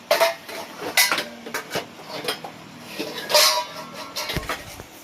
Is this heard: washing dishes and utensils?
yes